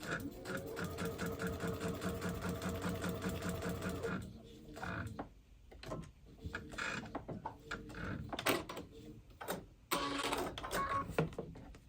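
A sewing machine stitches a foundation paper pieced quilt block made from a trinket quilt pattern, running in a steady, close whir for about four seconds, then breaking into short bursts with handling noises between them.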